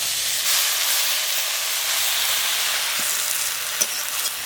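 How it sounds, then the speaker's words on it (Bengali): Prawns, potato and tomato frying with greens in a pan, a dense close sizzle and hiss throughout with a few faint stirring clicks, no talking. "ভালো করে ভাজা ভাজা করে নিয়েছি এবারে শাক দিয়ে দেবো"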